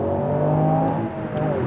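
A turbocharged Toyota Yaris engine accelerates in a brief, loud, steady drone with rising tones, heard from inside the car.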